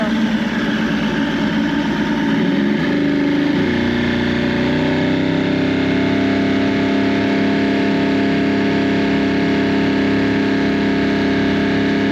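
An Evinrude 150XP outboard motor on a McKee Craft boat runs loud and close with a steady droning hum, its pitch shifting slightly early on before settling into an even tone, while the engine suffers a loss of power.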